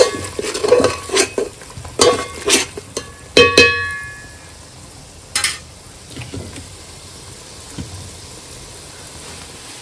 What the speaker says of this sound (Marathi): घरचा मालवणी मसाला घेतलाय तेलात चांगलं भाजून घ्यायचं